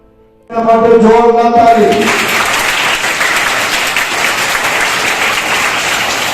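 An audience at a village Shiva gathering breaks into loud, sustained applause after a brief tonal lead-in, the clapping dense and continuous right to the end.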